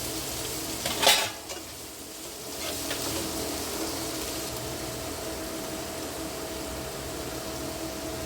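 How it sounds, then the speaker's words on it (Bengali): Chopped onions frying in a pan with steady sizzling and stirring, a brief louder scrape near the start, then a continuous close hiss with no talking. "বাটা পেঁয়াজটা ভেজে এসছে অনেকটাই"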